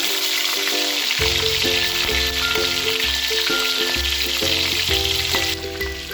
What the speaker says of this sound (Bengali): নুন হলুদ দিয়ে মাখিয়ে রাখা চিংড়ি মাছগুলো হালকা করে ভেজে নিন